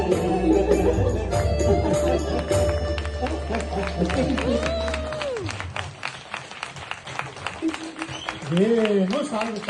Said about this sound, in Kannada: ಏನು ಸಾಲದು ಚಪ್ಪಾಳೆ